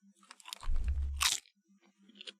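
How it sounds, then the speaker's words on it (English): A single close, crisp crunch of potato chips being bitten and chewed, a short burst of crackling followed by quiet mouth sounds. "Listen to this crunch."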